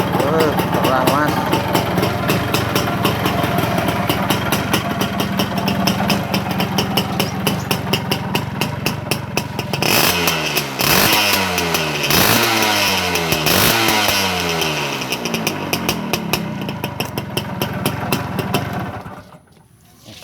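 A Yamaha L2 Super motorcycle with a noisy piston ring idles loudly up close, its two-stroke buzz steady at first, then popping into a series of quick revs before cutting off. Voices talk over the engine.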